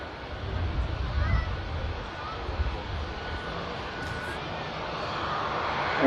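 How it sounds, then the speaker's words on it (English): An EasyJet jet at Manchester Airport gives a steady broadband engine roar at middle distance, persisting throughout with a slight swell near the end, while a voice talks faintly over it. "Looking at something in progress, another EasyJet aircraft."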